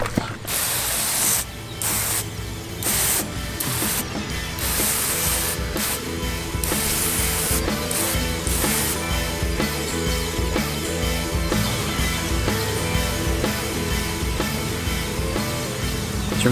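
Repeated pump-sprayer hissing in short bursts as natural weed killer is sprayed on a lawn, alternating with mechanical clicking and rubbing, close and fairly loud, with no talking.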